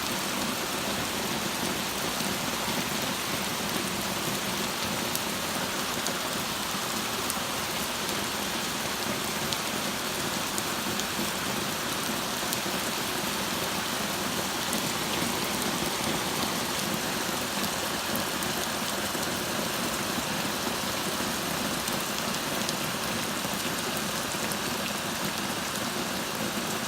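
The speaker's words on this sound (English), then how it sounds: "Yeah, that noise you're hearing is all the rain." Torrential rain pours down in a steady, dense roar that never lets up, loud and close throughout, with heavy drops drumming on surfaces and no voices heard.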